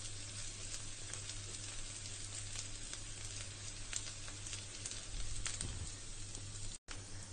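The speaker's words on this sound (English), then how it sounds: "Cook it until onions become translucent" Onions fry in a pan for a Swiss-Italian pizza fondue sauce, a soft continuous sizzle with light crackles and occasional stirring scrapes, fairly quiet, with a low steady hum underneath and no talking.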